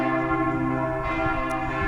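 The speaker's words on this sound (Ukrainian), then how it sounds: "Кличуть дзвони, кличуть." Church bells ring out steadily in a city on a July Sunday, their rich, sustained tones layered and continuous, loud and near.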